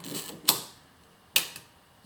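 Two sharp mechanical Ricoh 500G camera shutter clicks about a second apart, fired with the camera handheld, close and crisp, with a faint second tick after the latter.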